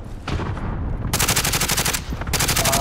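Rapid automatic gunfire from a shooter video game, two sustained bursts of fast, evenly spaced shots, loud and close, with a short pause between them.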